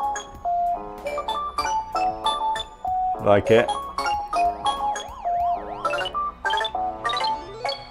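Retro Pac-Man arcade ringtone playing from a OnePlus Nord 2 Pac-Man Edition phone, a bright run of chiptune beeps, blips and warbling tones, loud and close, with a voice speaking briefly over it.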